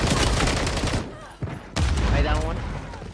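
Rapid gunfire in a video game shooter, dense bursts of loud automatic shots close up, breaking briefly before another heavy volley, with players talking over it.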